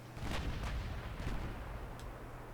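Distant battlecruiser broadside in Ultimate Admiral Dreadnoughts, heavy naval guns from triple turrets firing a few deep booming shots spaced apart over a low steady rumble, moderately faint.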